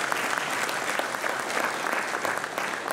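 Audience applauding at a brass band festival, dense steady clapping from a sizeable crowd, close and even throughout with no voices over it.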